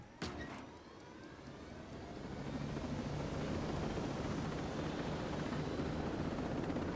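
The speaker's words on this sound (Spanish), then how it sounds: "Vamos a pillar el helicóptero" A helicopter in the video game Ghost Recon Breakpoint, its rotor and engine roar rising after a brief click and then holding steady and loud.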